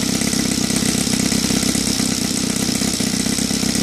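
A Saito FA 270 model aircraft engine, converted to run on gasoline, runs steadily at a fast, even idle with a dense, rapid firing buzz, loud and close with no talk.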